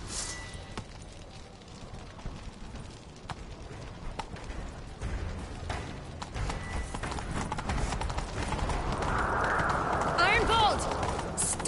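A horse gallops in a PS4 video game, its rapid rhythmic hoofbeats running steadily through the whole stretch and growing louder toward the end, with other game sounds mixed in.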